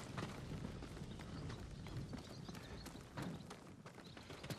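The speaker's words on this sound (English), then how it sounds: "They're samurai horses." Horse hooves gallop in Ghost of Tsushima, a dense, steady clip-clop of running hoofbeats filling the scene at close range with no talk over it.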